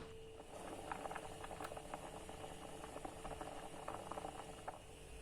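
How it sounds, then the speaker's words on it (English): Rice boils in a pot of starchy water, giving a faint, continuous bubbling simmer with soft irregular pops and a low steady background hum, no voices. "I allow the starch to build up whilst the rice is boiling"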